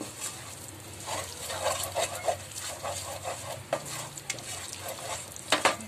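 A spoon scrapes and stirs red chili powder and garam masala through a frying crab curry in a pan, giving soft rhythmic scraping over a quiet sizzle, close and fairly faint, with no talk.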